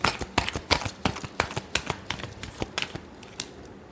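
Tarot cards are shuffled in quick bursts, a run of sharp, close riffling flicks and slaps that come in an uneven rhythm and then thin out near the end.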